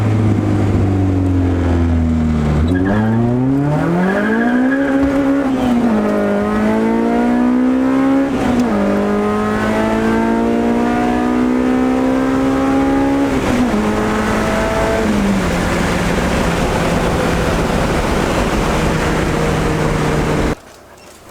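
A Honda Integra engine revs up and shifts through gears as it accelerates hard onto a freeway, loud and close, pitch climbing and dropping with each gear change.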